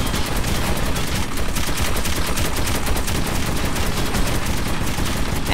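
A weapon in the Metro 2033 Redux video game fires in a loud, continuous rapid automatic burst, the shots rattling on without pause, close and dominant with no talk.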